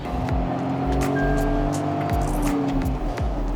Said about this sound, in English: you can definitely hear that engine inside the cabin. You can also hear the exhaust note.